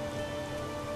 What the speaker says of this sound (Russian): К счастью, вскоре дождик закончился.